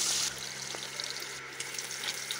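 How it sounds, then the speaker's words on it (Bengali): Pieces of rohu fish fry in oil in a wok, a close, steady sizzle with a few faint clicks over about two seconds, without talk. "প্রথমে মাছগুলো আমি কড়াইতে তেল দিয়ে মাছগুলো আমি ভালো করে ভেজে নেবো"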